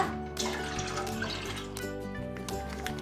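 Water pours steadily into a cooking pot for Thai taro in coconut milk, a continuous splashing flow with a few shifts in tone as the level rises, no speech.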